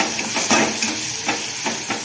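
Onions sautéing in a pan give a steady, close sizzle and hiss, with a few soft stirring scrapes and no voices.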